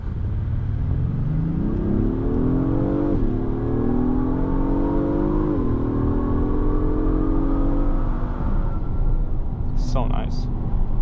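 A 2026 Acura MDX Type-S drives and accelerates, its engine note rising steadily through gears with shift dips, a continuous near road and cabin drone, while a person talks over it.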